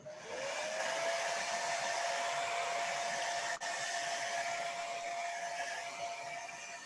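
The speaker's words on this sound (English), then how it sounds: "get a hair dryer" A hair dryer blows steadily and close up to dry acrylic paint on a cosplay prop sword, a continuous whooshing roar with a faint whine, briefly cut once midway before resuming.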